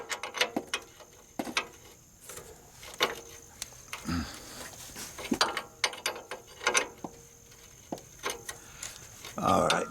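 Ratcheting wrench clicking in quick bursts while loosening a bolt on a Toyota Tundra, with sharp metallic clicks and pauses between turns, close and fairly loud.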